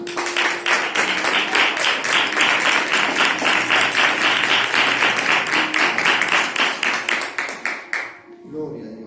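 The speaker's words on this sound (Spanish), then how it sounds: "darle fuertes palmas a la palabra de Dios" A church congregation breaks into loud, steady applause, dense clapping with a rhythmic beat running for several seconds before it tapers off and stops.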